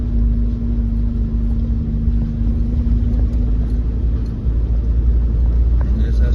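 A car rumbles along a potholed mountain pass road, a steady low engine and road drone filling the whole stretch with a faint hum riding on top, loud and close as if heard from inside.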